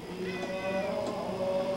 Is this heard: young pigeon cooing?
no